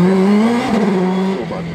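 A self-built hill-climb race car with a Renault 2-litre engine passes at a mountain race, its loud, strained engine note holding steady, then dropping in pitch as it goes by.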